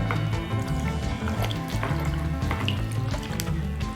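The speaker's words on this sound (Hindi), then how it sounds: "टॉवल को पानी में डिप करेंगे" A towel is dipped into a vessel of cool, clay-pot-temperature water for a home remedy, giving continuous sloshing and trickling water sounds with small drips, steady and close, with no talk.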